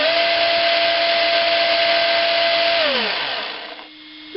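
A homemade carbon fiber prop shaft on a ZD Racing Pirates 3 1/10 touring RC car spins up in a steady, loud electric whine, then winds down with falling pitch near the end; no talking.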